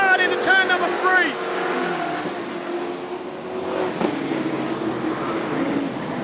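Race cars roar around a speedway at an AMCA Nationals final, engines droning and surging at mid distance beneath continuous excited commentary.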